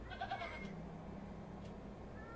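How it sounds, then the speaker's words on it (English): A goat bleats in the video game The Excavation of Hob's Barrow, a faint wavering cry early on that fades into a low ambient hum, with no speech. "The goat! Can I pet the goat?"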